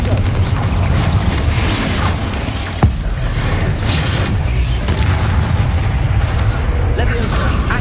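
Spell explosions from the Confringo charm in Hogwarts Legacy, a single sharp boom standing out amid a dense, steady rumble of game effects and music.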